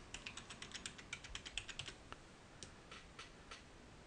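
A password goes in on a computer keyboard as quick bursts of soft, close keystrokes, a rapid run first and then a few scattered taps.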